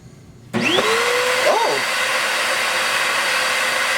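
An Eye Vac stationary vacuum kicks on with a rising whine and keeps up a steady roar, with a brief gulping shift as it sucks up a ball of hair.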